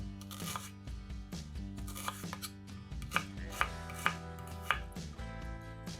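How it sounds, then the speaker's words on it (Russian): Onion cut into quarter rings with a knife on a board, a steady run of close, crisp chops with several sharper knocks, no voices. "Лук нарезаем четвертькольцами."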